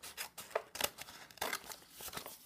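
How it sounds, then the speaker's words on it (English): Scissors snipping through a paper card at close range, several short crisp cuts at an uneven pace with brief rustles of paper between them. "I'm going to cut the card."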